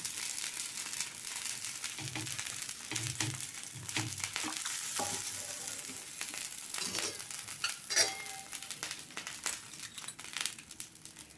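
Wheat flour roti frying in oil on a pan gives a steady crackling sizzle with intermittent crinkly scraping and stirring noises, close and moderately quiet, with no talk.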